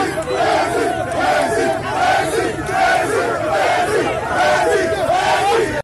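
Crowd of onlookers, activists and supporters welcoming Maurice Kamto at the entrance to the chief town of Cameroon's West region, a loud, continuous mass of cheering and shouting voices.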